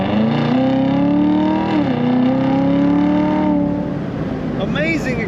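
A 2015 Chevrolet Corvette Z06 convertible accelerating hard, its engine note climbing through the revs, dipping at a gear shift, then rising again before easing off, loud and close, with a brief voice near the end.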